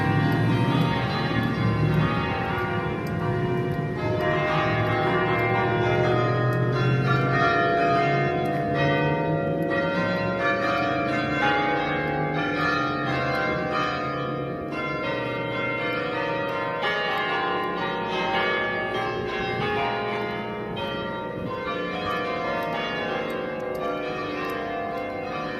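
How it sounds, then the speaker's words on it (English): Church bells ringing at All Saints church in Holbeach, a steady peal of overlapping tolls that carries on continuously, moderately loud and heard from outdoors nearby. "So there's the church bells."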